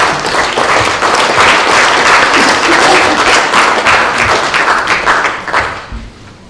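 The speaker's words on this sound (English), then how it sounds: "I think that deserves some applause" Audience applause at a council meeting, dense steady clapping from a room of people that holds for about five seconds and then thins out and fades toward the end.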